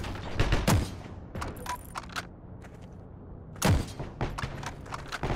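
Gunfire in the video game Heroes and Generals: bursts of rifle and machine-gun shots, some sharp and near, others distant, with quiet gaps between volleys.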